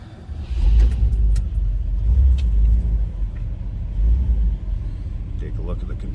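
A 1956 Cadillac Coupe Deville engine turns over and settles into a low, rumbling idle close by, with faint clicks and keys rattling near the start.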